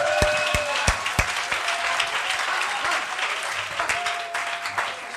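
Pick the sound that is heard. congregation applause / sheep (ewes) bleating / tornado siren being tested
congregation applause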